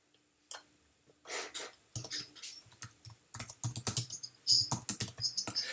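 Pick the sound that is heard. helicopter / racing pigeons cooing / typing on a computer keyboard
typing on a computer keyboard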